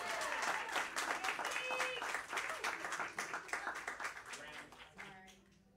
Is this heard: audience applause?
yes